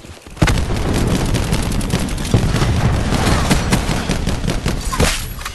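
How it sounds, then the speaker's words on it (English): Call of Duty Black Ops 4 gameplay with a cluster grenade and gunfire: a sudden heavy blast followed by continuous rapid gunshots and booming explosions, loud and dense throughout. "Throwing cluster grenade."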